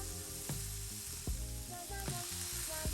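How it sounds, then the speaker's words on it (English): A chuck roast sears in a hot, oiled cast iron pan, giving a loud, steady sizzle close by, broken by a few sharp metallic knocks, and no one talks. "so I got my cast iron pan nice and hot. I already put some oil in there. And so here I am going down with the chuck roast"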